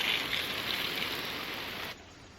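An expanding garden hose spray nozzle on its angle setting sprays water with a steady, loud hiss like rain, which suddenly drops to a faint trickle near the end.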